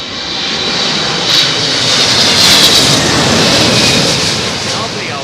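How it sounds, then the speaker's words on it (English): An old United Boeing 777-200 lands at London Heathrow in high winds. Its jet engines give a loud, continuous broadband roar that swells slightly at mid-pass, with a faint high whine on top. "Lovely old United 777-200"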